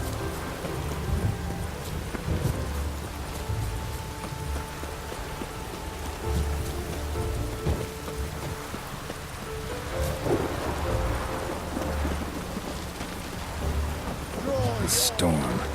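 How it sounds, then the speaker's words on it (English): Steady rain and rolling thunder from a storm in The Witcher 3: Wild Hunt, a continuous dense wash with low rumbles throughout and a few sharper cracks near the end, with a voice talking over it. "The storm, damn it."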